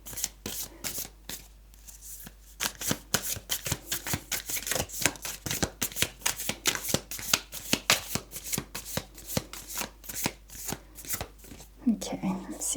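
A deck of tarot cards is handled and shuffled in a continuous run of sharp, rapid riffling and flicking bursts, close and crisp, with a brief voice near the end.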